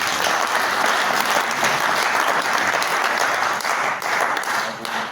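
A hall audience applauds the honorary president at the installation of a steering committee, steady loud clapping from many hands sustained for several seconds and tapering slightly at the end.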